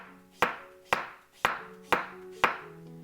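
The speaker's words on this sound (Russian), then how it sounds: "Картошку нарезаю тонкими кружочками." A knife slices raw potatoes into thin rounds on a board, giving five crisp, evenly spaced chops about half a second apart, close and clear with nothing else heard.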